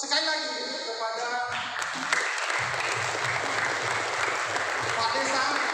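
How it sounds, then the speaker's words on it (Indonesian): An audience at a village literacy camp gives a round of applause for the village head, a broad burst of clapping that swells after a short stretch of speech and carries on steadily to the end. "mari kita beri aplaus sekali lagi kepada"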